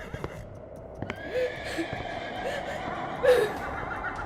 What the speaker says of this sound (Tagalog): at yabag ng kabayo na biglang naglalaho.